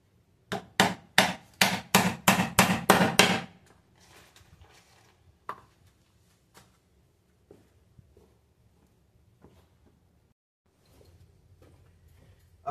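Rapid series of sharp hammer blows drives nails into the wooden central frame of a canoe built from three plastic drums, about eight close strikes followed by scattered lighter taps and quiet.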